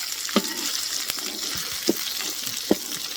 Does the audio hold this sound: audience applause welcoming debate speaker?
no